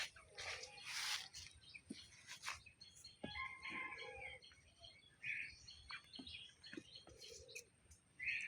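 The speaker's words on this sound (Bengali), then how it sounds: "একটা পাখি" Several short, high bird chirps and calls scattered across the clip, some bright and close, over a faint outdoor background.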